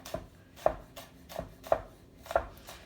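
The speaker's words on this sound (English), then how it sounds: "So then I make a little pile, chop across that little stack," A knife chops through a small stack of green and yellow produce for pineapple salsa on a board, with five or six distinct, evenly spaced thuds, close and clear with no talking.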